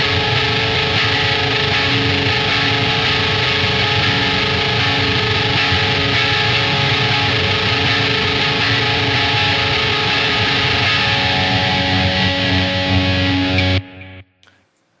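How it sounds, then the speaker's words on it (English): An electric guitar plays a sustained atmospheric chord on the rhythm pickup through moderate, fat distortion for metallic shoegaze, ringing loud and steady for about fourteen seconds before it is cut off abruptly, with no talk. "use a reasonable amount of distortion. I'm not overdriving it to the max, but you want a pretty fat sort of driven sound."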